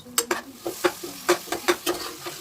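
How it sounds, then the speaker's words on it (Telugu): Chicken curry with chopped tomatoes being stirred in a pot, a rapid series of metallic scrapes and knocks of a spoon over a soft sizzle, close and rhythmic. "ఇప్పుడు కట్ చేసి ఉంచుకున్న టమాటీలను అయితే వేసుకొని శుభ్రంగా కలుపుకోవాలి"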